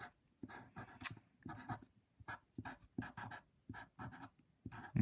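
A pen or marker scratches across a surface in short bursts while a math table for a cross product is drawn, strokes coming in quick clusters with brief pauses between them, close and fairly quiet.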